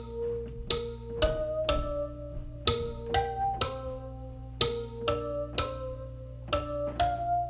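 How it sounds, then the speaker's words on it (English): Lower-register kalimba sample from Contact, plucked in a slow melodic phrase of about a dozen bright, ringing notes, each sharp attack decaying into a sustained tone, played alone. "I found another kalimba from Contact that plays in a lower register that sounds like this"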